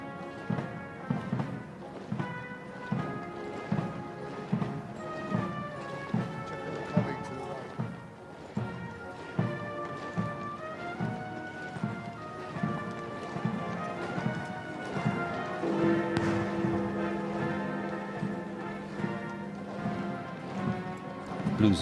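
Hooves of mounted horses clip-clop in a steady, measured rhythm on a city street during the Queen's funeral procession toward Wellington Arch and Hyde Park Corner, with a band playing alongside and a sustained brass note.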